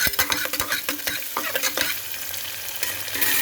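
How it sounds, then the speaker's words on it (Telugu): Sliced onion and curry leaves fry in hot oil for a tempering while a spoon stirs briskly, scraping sharply against the pan in quick irregular strokes over a steady bright sizzle, close and alone. "ఆనియన్ వేసుకున్నాం కొంచెం కరివేపాకు కూడా వేసేస్తున్నాం గరిపెట్టి కొంచెం కలుపుతున్నాను"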